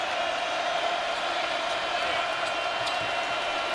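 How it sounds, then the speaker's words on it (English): A basketball arena crowd at a Kentucky versus LSU game stands and screams, a steady, loud wall of roaring voices that fills the space without pause. "now a crowd that is on its feet and screaming"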